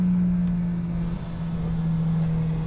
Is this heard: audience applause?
no